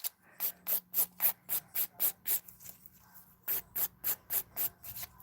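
A nail art backing being filed by hand in steady rhythmic strokes, a quick series of about ten raspy scrapes, a short pause, then another run of even strokes, close and fairly quiet with no speech.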